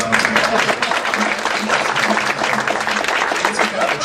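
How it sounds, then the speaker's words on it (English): Convention audience applauding at CoreCon 2012, a steady dense wash of clapping lasting several seconds, with voices talking over it. "I think that deserves a round of applause."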